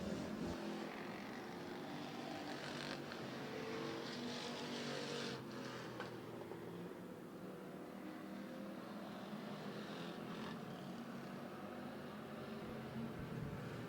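Stock cars race around the Twin State Speedway oval in Claremont, New Hampshire, with a steady, distant engine roar that holds throughout as the field circles the track.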